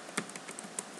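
Light typing on a computer keyboard, a handful of soft, irregular key taps heard close and alone over faint background hiss.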